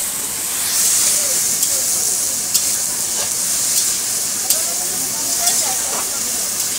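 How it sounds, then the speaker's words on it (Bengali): Mutton pieces frying in a pan with garam masala and cardamom, heard as a loud steady hiss and sizzle with occasional sharp spits and scraping clicks, close up. "মাংস ভাজা হচ্ছে"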